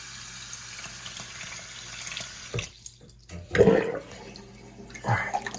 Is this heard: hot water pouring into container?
yes